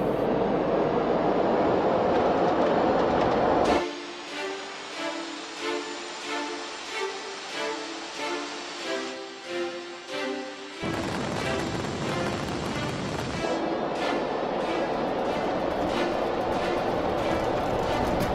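Concorde jet engines at takeoff thrust make a loud, steady roar that dips and then returns at full force, with tonal whine over broadband rumble.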